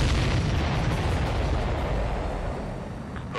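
Explosions in the air-combat video game Ace Combat 7, heard as a loud, rumbling blast that fills the whole clip and slowly fades toward the end, followed by a brief crackle.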